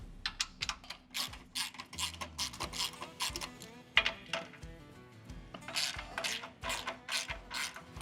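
A ratchet fitted with a 17 mm socket works off the bolts of a track cover on an SVL75-3 machine, giving repeated rapid clicking strokes, metallic clinks and rattling tool handling at close range.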